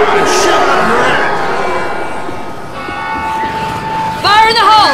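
A church bell tolls during Left 4 Dead 2 gameplay, metallic ringing mixed with dense game noise and a voice talking over it, loud and busy.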